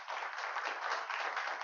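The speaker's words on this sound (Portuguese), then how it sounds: "Dá uma salva de palmas para mim terminar" A church congregation applauds, an even wash of many hands clapping that runs without a break through the short moment, heard quite faintly and from some distance.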